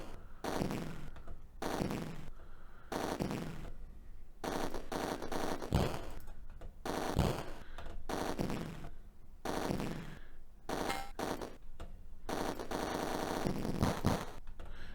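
Rapid machine-gun-style shooting on a roller coaster course in the Atari ST rail shooter Roller Coaster Rumbler: long stuttering bursts of loud, dense fire with brief gaps and a few heavier thumps, continuous and close.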